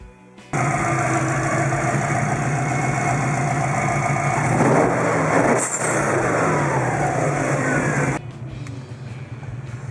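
A Subaru Impreza GT engine, recently fixed after a faulty fuel pressure regulator, runs at a steady, loud idle close by for about eight seconds before cutting off.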